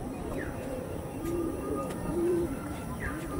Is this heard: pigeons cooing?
yes